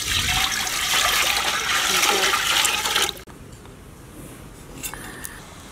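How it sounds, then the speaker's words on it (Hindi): Water pours into a steamer pot while steamed veg momos are being prepared, a steady loud rushing stream that stops abruptly about halfway, leaving faint kitchen background. "पानी डालना।"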